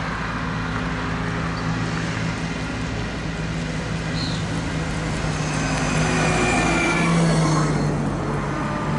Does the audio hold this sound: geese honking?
no